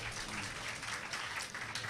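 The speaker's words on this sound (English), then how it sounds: "welcome with a big round of applause" A short burst of dense applause from a literature festival audience, steady and fairly loud throughout.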